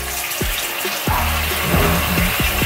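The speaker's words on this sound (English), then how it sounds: "But I'm still gonna put more hot water on it" Hot water runs steadily from a tap into a sink during a facial pore-cleaning routine, a continuous close splashing wash with a few low knocks and thuds over it and no talking.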